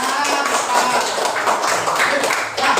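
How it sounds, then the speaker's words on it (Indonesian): Classroom clapping from a group of students in a lesson, steady and dense for the whole stretch, fairly loud and close, with voices mixed in. "tepuk tangan untuk Mas Siti"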